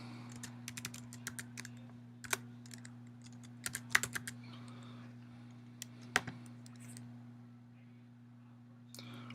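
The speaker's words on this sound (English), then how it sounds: "First, let's type in the website." Typing on a computer keyboard, a quick run of light key clicks in bursts with a few sharper taps and short pauses, close by over a steady low electrical hum.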